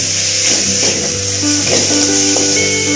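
Tomato, turmeric and chilli powder are stirred in a hot frying pan, with a continuous loud sizzle and hiss and repeated scraping strokes of the spoon.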